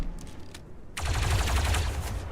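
Blaster fire in the Star Wars Zero Company video game, a quiet patter of shots at first, then a dense rapid volley of bursts that fills the second half.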